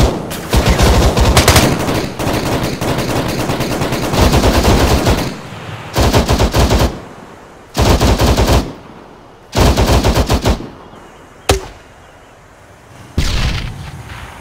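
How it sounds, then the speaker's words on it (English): Heavy machine-gun fire from a BTR armored vehicle in an ArmA 3 battle, loud close bursts of rapid automatic shots separated by short pauses, with one sharp single crack near the end. "He's fucking shooting at me!"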